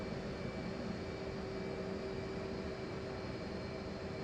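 Steady jet engine roar from an F/A-18C's left engine spooling up during a cold start in the DCS flight simulator, a constant broadband whine and rumble with a thin tonal hum, even and unbroken throughout.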